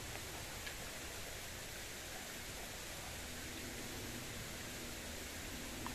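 Steady rushing water flowing near Silver Strand Beach, a constant even wash of noise with no breaks, fairly faint and heard alone.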